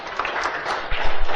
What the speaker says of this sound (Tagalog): Palakpak kiniya po Diyos.